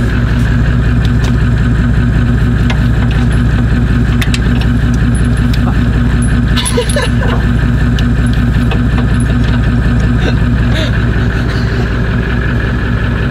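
A truck engine idles steadily and loudly at a campsite, a constant low rumble running the whole time with no talk over it.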